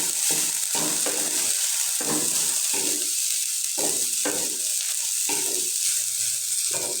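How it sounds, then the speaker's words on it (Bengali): Grated coconut frying in a pan of hot oil for chickpea halwa, a steady close sizzle broken by repeated scraping stirs every second or so, no voices. "দিয়ে দিব এই যে নারিকেল, এটা আমি আগে ভাজে নিব ভালো করে।"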